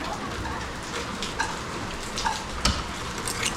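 Steady typhoon rain patters across a surface, a dense hiss with scattered louder drips and ticks standing out now and then.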